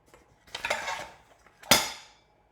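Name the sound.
sugar being dumped into a bowl with butter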